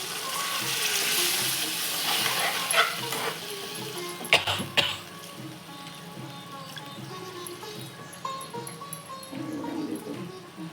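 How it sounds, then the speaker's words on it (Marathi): Half a glass of water is poured into a pan of urad dal vadi curry, giving a steady splashing gush with light sizzling and stirring, close and fairly loud, then a few sharp clinks before the flow settles. "आता पाणी टाकूया."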